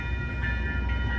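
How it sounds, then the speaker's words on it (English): Amtrak Coast Starlight train 11 led by ALC-42 locomotive 325, with a P42DC trailing, rolls past near 98th Avenue in Oakland, California: a steady, loud low rumble of rail cars with faint rhythmic clatter throughout. "This is Amtrak train 11 to Los Angeles."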